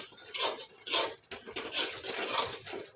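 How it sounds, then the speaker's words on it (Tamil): A spoon works grated coconut into a gram flour mixture in a pan, producing repeated rhythmic scraping strokes, roughly four sweeps, close up and moderately loud. "தேங்காவை நல்லா ஒரு 2 நிமிஷம் கலந்து விட்டுக்கலாம்."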